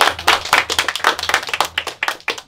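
Battle rap crowd at a Motus Battle League event clapping and cheering loudly, a dense burst of rapid handclaps with shouts mixed in, close and continuous throughout.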